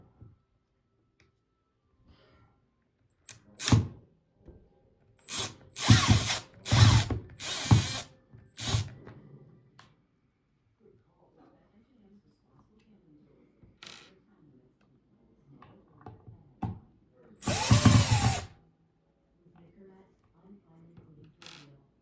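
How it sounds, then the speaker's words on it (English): Screws being loosened on a Fender Stratocaster pickguard, a series of sharp ratcheting bursts, several in a quick cluster then one longer burst later, separated by quiet handling sounds. "Loosen this pick guard off."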